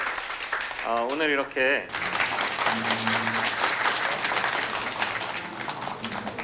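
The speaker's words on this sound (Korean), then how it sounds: "여러분 이재명 후보님께 큰 박수 부탁드립니다" Audience applause for candidate Lee Jae-myung at a meeting with startup company heads, a broad steady clapping wash filling most of the clip after a brief spoken phrase at the start.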